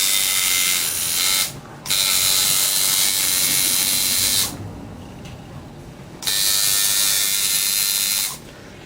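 A liner or shader tattoo machine being tuned gives a loud, steady electric buzz close up. The buzz cuts out briefly a few times and then restarts, with no talking.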